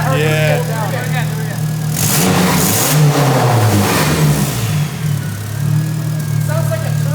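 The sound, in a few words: 6.0 Powerstroke engine revving with big turbo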